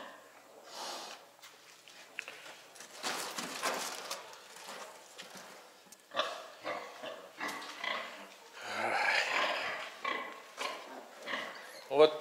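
A sow grunting and snorting while farrowing in a pen, with irregular close grunts and rustling spread across the stretch, louder bursts in the second half.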